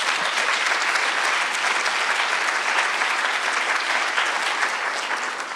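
An audience at an African American film festival applauds, a dense, even wash of many clapping hands that continues strongly throughout, close and loud.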